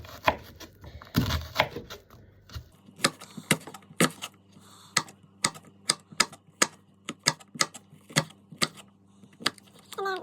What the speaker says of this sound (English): just run my knife through it